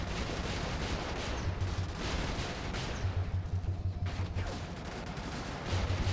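Howitzer artillery in the video game Brigador booms in rumbling bursts under continuous dense battle noise, low thuds repeating in short clusters with a steady roar throughout.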